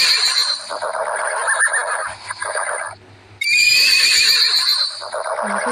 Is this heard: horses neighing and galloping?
yes